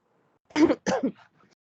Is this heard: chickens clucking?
no